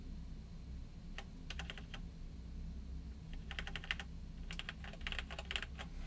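A used Cherry G80 mechanical keyboard is typed on in short irregular bursts of crisp key clicks, with pauses between flurries over a low steady hum.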